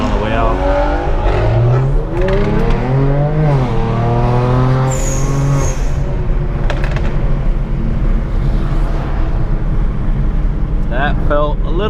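A Kia Stinger revs and accelerates hard while leaving a car meet, its engine note climbing and dropping through gear changes, loud and close, with voices and road noise around it.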